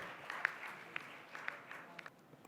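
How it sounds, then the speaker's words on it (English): Faint, distant audience applause in a hall, a soft steady patter of clapping with a few sharper claps standing out, welcoming scientist Dr. Gagandeep Kang to the stage. "a big round of applause for Dr."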